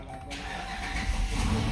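2011 Jeep Grand Cherokee engine cranking and catching, a brief starter whine giving way to a steady close idle rumble.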